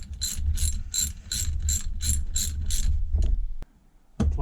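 A ratchet wrench tightens a nylock nut with eight quick, evenly spaced clicking strokes up close, then a pause and a final click or two.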